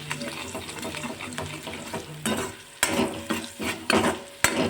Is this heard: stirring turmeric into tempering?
yes